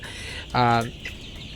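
A young Egyptian Fayoumi chicken, about one to one and a half months old, lets out a single short, loud, tonal cluck close to the microphone over quiet background noise.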